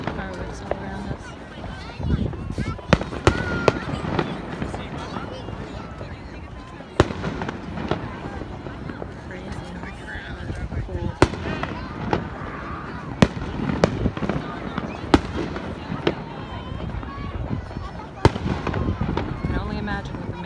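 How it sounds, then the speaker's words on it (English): Fireworks for a July 4th celebration pop and crack all around, sharp near and far bursts at irregular intervals over a steady crackle, with people talking throughout. "There's literally fireworks all around us."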